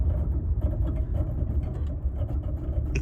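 A 4x4 with a smart traction system brakes hard with locked wheels while angled across an icy Texas road, a steady low rumble of engine and tyres close by, with no talk over it.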